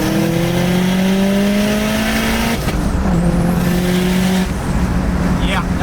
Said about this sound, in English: And then we'll do a third gear pull here.